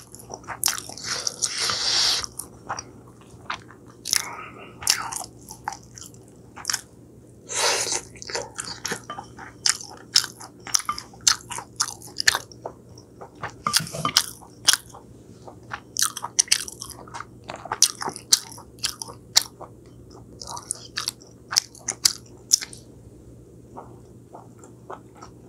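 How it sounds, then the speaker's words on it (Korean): Close, crisp biting and wet chewing of braised mackerel in a Korean countryside meal, with repeated crunchy and squishy mouth sounds in an uneven rhythm and no talk. "고등어 먹어볼까?"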